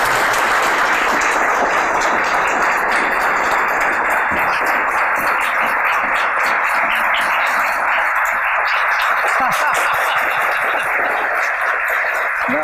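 Loud, steady applause welcomes a singer, writer and composer onto an interview show stage, a dense wash of clapping that holds evenly from start to finish with no voices over it.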